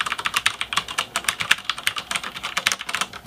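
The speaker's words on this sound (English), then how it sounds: "Those are the sound of the browns" Brisk, steady typing on a Ducky DK9008 G2 Pro mechanical keyboard fitted with Cherry MX Brown switches, a dense run of close, soft-edged keystrokes with no talking.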